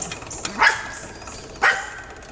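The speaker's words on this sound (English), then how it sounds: "Damn dog wants to be on the camera all the time." A dog gives two sharp barks about a second apart, fairly close, over quiet background noise in a garage-like setting.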